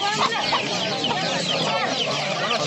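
A crowd of chickens at a poultry market in Nookat clucks continuously up close, overlapping calls forming a busy, noisy chorus.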